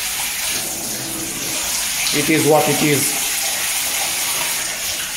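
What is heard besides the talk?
Kadda shower head spraying water at low pressure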